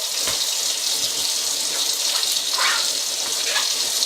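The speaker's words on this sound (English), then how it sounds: "what I will also do is wash my tomatoes" Tomatoes are rinsed under a running kitchen tap, a continuous loud gush of water with small splashy changes as they move through the stream.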